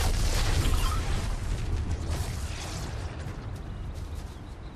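Rumbling, dense bursts of Fortnite gunfire and explosions, loud at first and gradually fading, with no voices.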